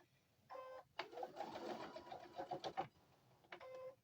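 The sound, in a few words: sewing machine quilting fabric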